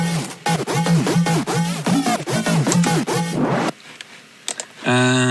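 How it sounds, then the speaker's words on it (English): A heavy bass riff from the second part of an electronic drop, built from cut and moved bass pieces, pulses in loud, growling repeated hits, then drops out briefly before a buzzy synth tone returns. "because these are like some heavy bass sounds."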